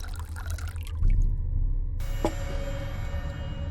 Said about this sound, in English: Pour some coffee.